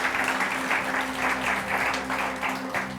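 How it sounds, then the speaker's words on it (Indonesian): Audience applause rings out during a church sermon, a sustained, dense patter of many hands clapping at once, steady and fairly loud, with a low musical hum running underneath. "Tepuk tangan dong buat Dadang"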